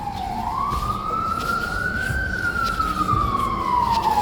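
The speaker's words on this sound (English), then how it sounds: "Here comes the sirens now." A single emergency siren wails continuously, its pitch sliding up slowly and then falling back, loud and steady over low traffic rumble.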